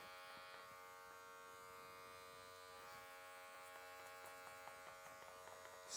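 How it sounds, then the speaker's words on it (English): Electric hair clippers buzzing steadily during a French crop haircut, a quiet constant hum with faint snips of hair being cut near the end. "Slowly closing that clipper guard. All the way. Still hearing that hair being taken."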